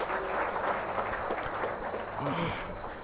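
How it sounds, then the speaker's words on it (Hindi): Audience applause at a young entrepreneurs summit, a fairly loud, steady patter of many hands clapping with voices mixed in. "उनके लिए जोरदार तालियां बजा के हम लोग स्वागत करते हैं एक बार"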